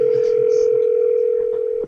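A steady, loud telephone dial tone hums alone for about two seconds and then cuts off sharply as a prank call begins.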